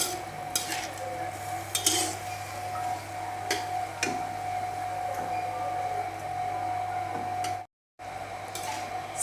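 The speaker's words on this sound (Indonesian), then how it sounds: "Selanjutnya kita masukkan cumi hitamnya. Kita orak-arik." Squid stir-fried in black ink sauce in a pan, with scraping and clinking of a utensil against the pan over a low steady hum and faint sizzle, alone with no voices.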